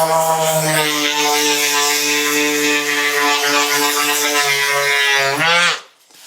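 A power sander with 40 grit sandpaper works over a patched door hinge area, giving a loud, steady buzzing hum close up that winds down and stops near the end.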